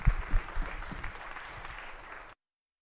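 A round of applause in the Senate chamber during a floor session, a modest burst of clapping from a small group that fades out after a couple of seconds, with some low thumps near the start.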